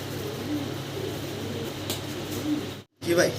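A pair of Lotan pigeons coo softly in a pigeon market, low burbling calls repeating under ongoing background noise with a brief dropout near the end.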